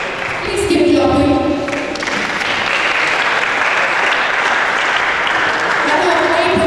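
Parents applaud at a school season opening ceremony, a dense steady wash of clapping that runs loud throughout, with a voice speaking over the start of it.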